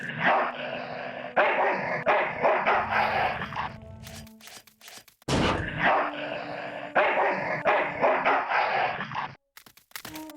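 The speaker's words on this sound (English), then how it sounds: "Dog jumps in car, eats meat, jumps out, kills me." A dog in the adventure game Full Throttle barks and growls in repeated loud bursts, separated by short pauses, alongside game sound effects.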